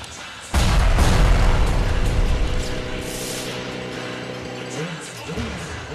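A Transformers Generation 2 Trax toy is converted to flight mode: a sudden loud whoosh and rumble gives way to a sustained mechanical whirring drone that ends with a few short warbling tones.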